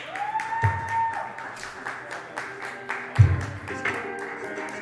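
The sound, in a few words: audience clapping for headliner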